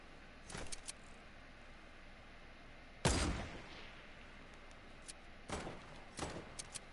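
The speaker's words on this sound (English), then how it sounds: "I am gonna shoot out my launch pad" Gunshots fire at a launch pad in a video game, a handful of sharp isolated bursts spaced apart, one louder shot standing out above a quiet steady background.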